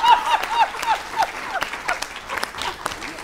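An audience claps at a Hindi comic poetry gathering. The uneven applause of many hands patters throughout, with a voice briefly audible at the start.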